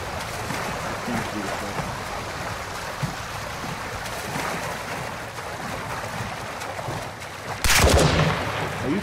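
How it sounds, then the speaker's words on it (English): Gunfire in Call of Duty DMZ near a gas station: steady rattling shots under a noisy game background, capped by a loud, sharp close burst near the end. "Stop shooting. Why do they have to shoot at me?"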